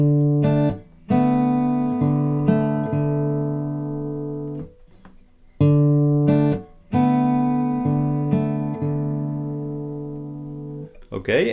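An acoustic guitar plays the second bar of a song: thumb-picked bass notes and chords in a steady fingerstyle rhythm, close and clear, with brief gaps between phrases.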